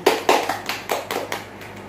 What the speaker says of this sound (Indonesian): Aplaus dong, tepuk tangan.